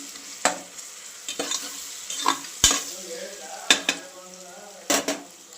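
Vegetables frying in a pan for Karnataka-style tomato bath, with repeated scraping stirs of a spatula against the pan over a steady close sizzle, about six sharp strokes spread unevenly across the stretch.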